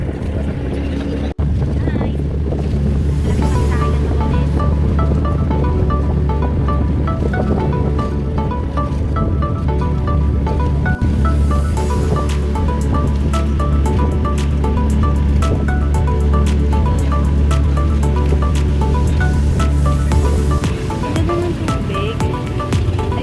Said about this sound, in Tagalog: Oh, yung alon-alon.